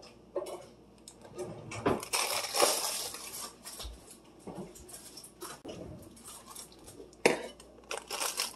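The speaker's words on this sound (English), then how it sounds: "And you're going to dump it right over the apples." Dry boxed cake mix dumped over apples in a baking dish in a vacation rental kitchen, a soft crumbly pouring rustle with scattered clinks and scrapes, close and fairly quiet.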